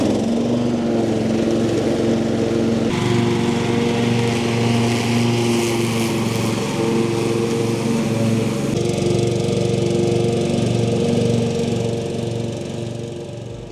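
A Cub Cadet LT1 lawn tractor with a 439cc single-cylinder engine runs steadily nearby, a loud, even mid-pitched drone with a slight shift in tone partway through and no talking.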